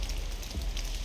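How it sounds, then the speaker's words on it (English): Steady rain falls in a strategy video game, a soft continuous patter with a low rumbling bed, even and unbroken through the short moment, with no voices over it. "That rain's awesome."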